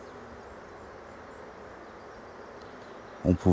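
Honeybees hum in a low, steady drone from an open hive with frames being worked, faint and continuous, with a brief louder knock at the very end.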